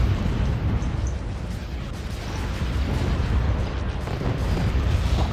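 Ion cannon and turbolaser fire rumble through a space battle video game as a dense, continuous wash of booming explosions and bursts, loud and sustained without pause.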